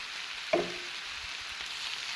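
Onion, capsicum and tomato for pizza cutlets fry in a pan with a steady hiss. One sharp clink of a utensil comes early, and there is no speech.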